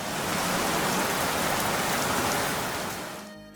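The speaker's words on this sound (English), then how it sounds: "His head bursted out of the water, causing an explosion of water to rain into the room." Dense water pours and splashes down like a heavy downpour, a loud continuous hiss that fades slightly before stopping abruptly.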